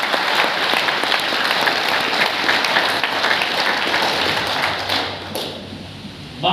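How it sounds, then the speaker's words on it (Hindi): Loud, sustained applause from an audience at a business seminar for a speaker, steady clapping filling the room for about five seconds before tapering near the end. "सर के लिए भी एक जोरदार ताली।"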